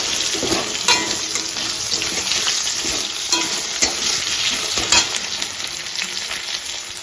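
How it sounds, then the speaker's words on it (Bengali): Cut potatoes fry in hot oil with black cumin seeds in a kadai, giving a loud, continuous crackling sizzle with scattered sharper pops and stirring throughout. "হলুদ লবণ দিয়ে আলুগুলো খুব ভালো করে ভেজে নেবো।"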